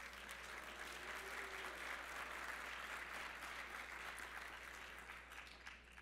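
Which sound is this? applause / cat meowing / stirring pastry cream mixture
applause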